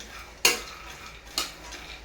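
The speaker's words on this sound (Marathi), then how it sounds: "आता मी शेंगदाणे भाजायला ठेवलेले आहे" Peanuts dry-roasting in a pan, heard as two distinct scraping stir strokes about a second apart over a faint continuous frying hiss, close and fairly quiet.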